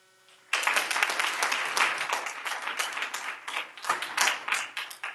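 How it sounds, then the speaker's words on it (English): Audience applause at a school board meeting, a dense burst of many hands clapping that starts suddenly after a brief quiet and continues steadily, loud and close, without talk. "I was actually going to say no applauding"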